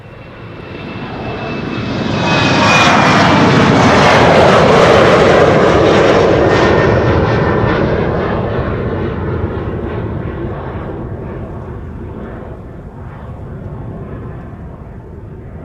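A 14-year-old KLM passenger jet, PH-EZM, at Schiphol airport roars past, its engine noise swelling to a loud peak and then fading into a long rumbling trail as it moves away.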